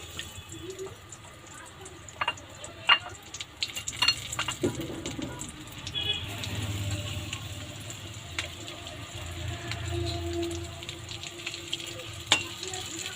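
Hilsa fish frying in hot oil, a soft continuous sizzle with scattered crackles and pops and occasional clinks of a utensil, moderately close and fairly quiet throughout.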